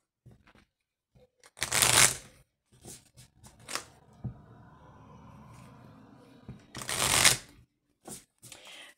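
Oracle cards are shuffled for a reading, with close papery riffles in two strong bursts and softer sliding and tapping between them.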